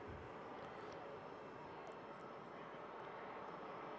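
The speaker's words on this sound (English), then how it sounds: "Jet2 A321 Neo also waiting to cross 23 right." A Jet2 Airbus A321neo waits at an airport to cross runway 23 right, its engines giving a steady, continuous broadband roar heard from a distance without pause.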